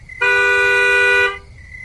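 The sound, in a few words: bus horn honking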